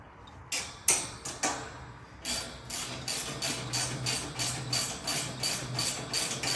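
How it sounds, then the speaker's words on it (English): A socket ratchet tightens nuts on a split gate frame, giving a close run of regular, crisp clicking bursts that speed into an even rhythm after a few scattered clicks at the start, with no talking. "then you can go ahead and cinch everything down with your socket"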